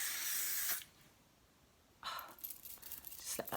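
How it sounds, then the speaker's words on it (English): A makeup primer or base spray mists out in two bursts: a short hiss, a pause, then a longer hiss with a few sputtering puffs, close by and with no talk. "So I have to spray it"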